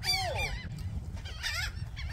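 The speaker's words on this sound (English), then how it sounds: "Hazel, what do you think of all these birds" Geese honking repeatedly in a flock near an RV park by the bay in Palacios, Texas, a chorus of close, overlapping nasal calls over steady low outdoor rumble.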